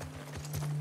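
Horses in the video game The Last of Us Part II, hooves clip-clopping on the ground in a brief burst of a few steps with a low steady hum underneath.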